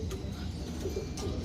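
Racing pigeon that has just flown home from a race, cooing in a low, soft murmur over steady background noise, with no talking.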